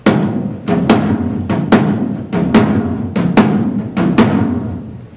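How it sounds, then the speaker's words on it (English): A drum struck with an open, ringing sound at a live event, about a dozen loud hits in a syncopated groove, each decaying with a resonant tail. "they do it with an open drum sound, which kind of sounds like this"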